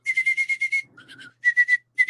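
King Ghidorah's shrill whistling roar from the 1991 Godzilla vs. King Ghidorah film, given as rapid bursts of loud, high-pitched chirping cries in quick succession, then a brief lower warble and more clipped whistles.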